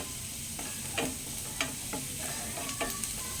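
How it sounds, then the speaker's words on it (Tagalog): Garlic hits a hot, near-smoking pan for a simple spaghetti sauce, giving a steady close sizzle with a few brief clinks and scrapes from stirring. "Pag sunog ng kawali, ilagay ang bawang."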